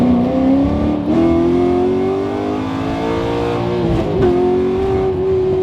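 A 2014 Chevrolet Camaro Z28 engine revs hard as the car accelerates with wheelspin, its loud, steady rising drone continuous and close, briefly dipping around a gear or throttle change before pulling strongly again.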